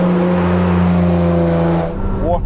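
A Ferrari F512 M, the last Testarossa, revs hard with a loud, steady engine drone that cuts off near the end, leaving a brief rising whine.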